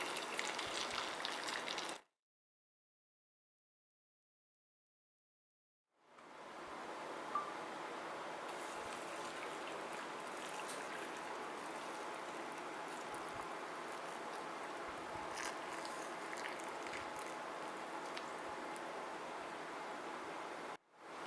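Hot boiling water pours steadily into glass jars packed with cucumber pickles, a continuous rushing splash that starts after a short silence and runs on alone until the end.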